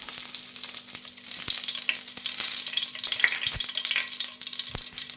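Bay leaf pieces, dried red chillies and cumin seeds sizzle steadily in hot oil, with scraping spatula strokes and sharp knocks against the pan throughout.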